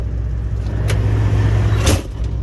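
A clapped-out Freightliner Classic truck engine idles with a loud, steady low rumble up close, and two brief hissy swells rise over the drone.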